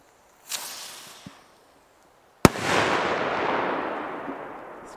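A Funke Trueno Blue firecracker set off outdoors on New Year's Eve: a short fizzing fuse and a small pop, a pause, then one sharp, loud bang followed by a long rolling echo that slowly fades.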